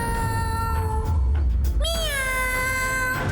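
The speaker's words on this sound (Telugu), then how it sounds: "క్యాట్ శబ్దం ఎక్కడి నుంచి వస్తోంది?" A cat in an animated cartoon meows clearly, with a long drawn-out call followed by a rising, wavering meow, close and loud over a low background rumble.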